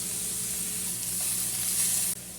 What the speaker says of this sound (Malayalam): നമുക്കിതിലേക്ക് ഇഞ്ചിയും വെളുത്തുള്ളിയും പച്ചമുളകും ഇട്ട് കൊടുക്കാം കേട്ടോ